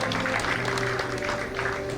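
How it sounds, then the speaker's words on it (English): Applause from the audience at an induction awards function, a continuous moderate patter of clapping hands over a low hum. "A big round of applause for her as well."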